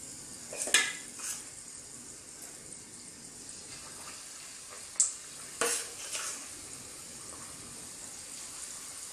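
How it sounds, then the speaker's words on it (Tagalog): Oil sizzles softly and steadily as batter-coated hard-boiled eggs deep-fry, with a few sharp clinks of utensils against a pan now and then. "Prito lang po natin siya."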